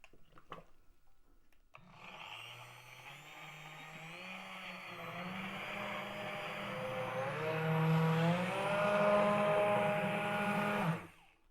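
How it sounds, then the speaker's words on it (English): A Vitamix immersion blender purees carrot ginger pumpkin soup in a pot, a loud, steady motor whir that rises and shifts in pitch for several seconds, then cuts off. "So excuse the noise for a minute while I go ahead and puree."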